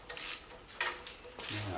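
A ratchet fitted with an impact socket works on the head bolts of a Ford F100 engine during a teardown, giving short bursts of metallic clicking and clinking, close and fairly loud, with brief gaps between strokes.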